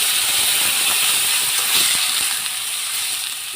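A little water hits drumsticks frying in a pan and throws up a loud, continuous sizzling hiss that eases slightly toward the end.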